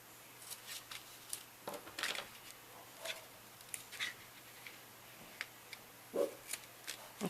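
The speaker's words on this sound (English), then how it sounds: "I'll take my scissors this time." Scissors snip paper while an envelope flip book is made by hand, giving a scattering of faint, brief, crisp cuts and rustles at irregular intervals, close by in a quiet room.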